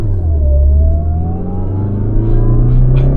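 A lifted, supercharged Mazda6 on a test drive accelerates under a loud, steady engine rumble, with a rising whine climbing in pitch throughout, heard from inside the car.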